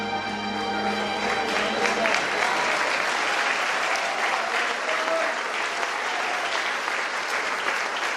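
Loud, continuous applause from a church congregation fills a family conference hall, dense clapping that starts as music fades out and holds steady to the end.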